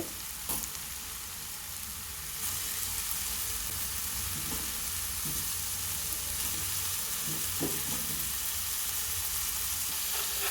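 Ginger garlic paste fries in a pan for a seer fish (vanjaram) curry, giving a loud, steady sizzle broken by a few brief stirring scrapes.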